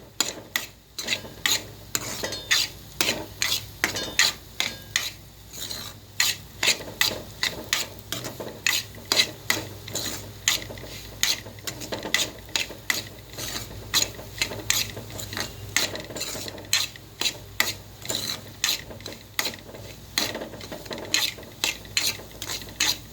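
Semolina roasting in ghee for sweet sheera is stirred with a spoon, making a rhythmic scraping that repeats steadily about once a second. The sound is close and unaccompanied, without talk, for over twenty seconds.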